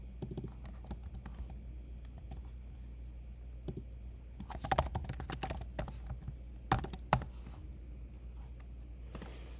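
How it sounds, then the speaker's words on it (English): Typing on a computer keyboard: a steady run of quiet, close key clicks over a low hum, with denser flurries and a few louder taps partway through, no talking. "You're so good in typing."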